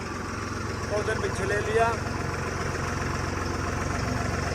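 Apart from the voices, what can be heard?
bulldozer and road roller engines idling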